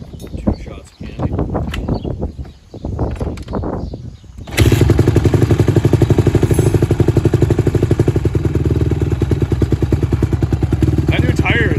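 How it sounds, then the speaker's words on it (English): A Honda 150R four-stroke dirt bike kick-starts after a few moments of talk and settles into a steady, loud, rapid idle that runs on to the end. "will the 150R start that nice? Should be a one kick."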